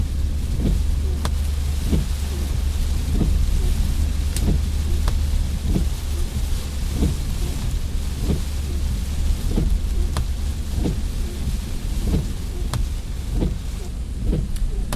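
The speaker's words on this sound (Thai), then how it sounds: "ฝนลง ปีนี้ฝนเยอะเนาะ" Heavy rain drums steadily on a car while it waits at a red light in Samut Prakan, a continuous dense patter over a low engine rumble, with sharp drops striking the roof and windows now and then.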